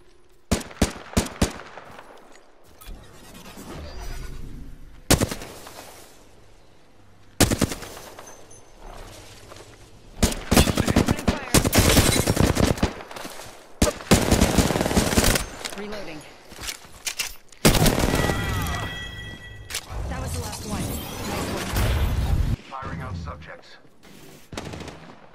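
Loud bursts of automatic gunfire and single shots crackle in the console shooter Apex Legends on PS4, firing in repeated volleys with brief pauses, while voices call out over the action.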